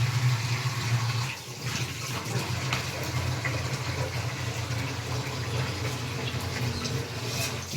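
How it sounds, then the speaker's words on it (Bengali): A tap runs at night in a home, a steady broadband rush of flowing water with a low hum underneath, continuous and fairly close. "জলটা বন্ধ করো, জলটা শেষ হয়ে যাবে"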